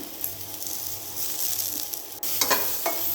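Soya chunks being dry-fried and stirred in a pan over a low flame, with a soft steady sizzle and a few scraping strokes of the spoon near the end.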